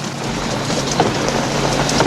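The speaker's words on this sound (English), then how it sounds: "Would you like it to rain a little harder?" Heavy rain pours down indoors, a dense, steady hiss of falling drops that is loud and unbroken, with no voices.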